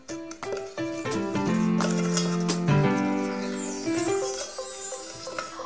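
Egg yolks and sugar are stirred in a metal pot, producing a run of ringing metallic clinks and scrapes from the utensil striking the pot, fairly close and moderately loud.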